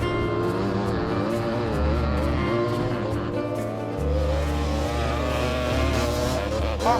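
Three-wheeled dirt bikes racing on a dirt course, a continuous loud engine drone that rises and falls as throttles open and close, with no voices over it.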